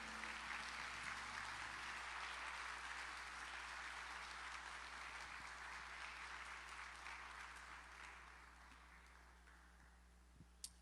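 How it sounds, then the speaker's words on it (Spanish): A church congregation gives a strong round of applause, steady dense clapping that fades gradually over several seconds, heard at a moderate distance over a low constant hum. "Denle un aplauso al Señor bien fuerte"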